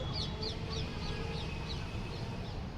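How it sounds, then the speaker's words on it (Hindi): Birds calling outdoors on a cool, breezy day, a repeated series of short chirps sounding faintly over a steady wind-like background noise. "और ये पक्षियों की आवाज़ देखो।"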